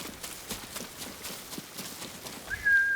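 A horse gallops in the samurai video game Ghost of Tsushima, its hooves beating a steady, quick rhythm of soft thuds, followed near the end by a sharp whistle-like tone.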